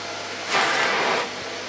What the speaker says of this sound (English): I would say that this is the quietest vacuum cleaner I've got.